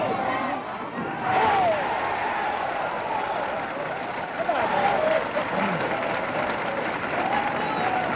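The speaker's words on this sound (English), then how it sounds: "When you get that 11, the crowd really comes alive because they know that now this is it." A bowling alley crowd cheers and applauds after an eleventh straight strike, a sustained roar of voices and clapping with shouts rising over it.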